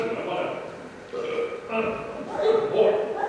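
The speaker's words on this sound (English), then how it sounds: "Oh, excuse me, I burped." A man burps in a stage play of a holiday horror story, a throaty belch mixed in with his own voiced, talky sounds, close and loud.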